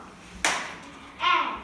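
A single sharp hand clap rings out in a quiet room during a counting game at an author-reader meeting in Valkó, followed moments later by a short voice-like sound.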